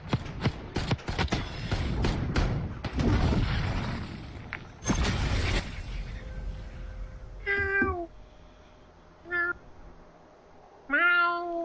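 A cat meows three separate times in the latter half, each call clear and fairly close, after a stretch of loud booming, rumbling noise at the start.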